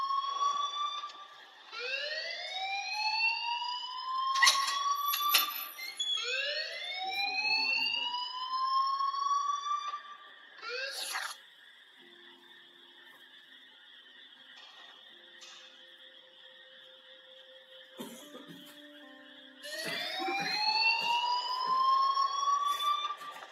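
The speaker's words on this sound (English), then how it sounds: "please turn off that alarm since that's your job" A fire alarm sounds in the Life is Strange video game, with loud repeating rising whoop tones over a steady electronic tone. It pauses midway and then resumes its whooping sweeps.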